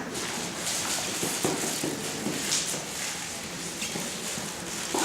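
Steady crunching and rustling of footsteps through dry leaves, close by, with soft irregular steps continuing throughout.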